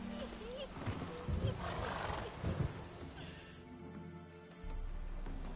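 Roach, the horse in The Witcher 3, neighs and whinnies in the game with hoofbeats beneath, then the sound drops to a low rumble. A voice speaks over the first half.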